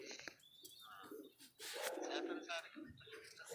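High-flyer pigeons in a breeding setup coo softly, their low murmuring faint and distant against quiet background noise.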